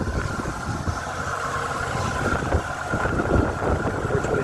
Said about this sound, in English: We'll pop the hood so you can hear the engine.